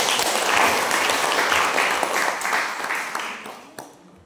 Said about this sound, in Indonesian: Kita tepuk tangan kepada yang terbaik.